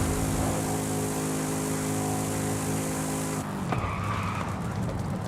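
A loud, steady race car engine roar in Forza Horizon 5 with strong harmonic drone that abruptly cuts to a lower rumble and tire noise, like revving then downshifting.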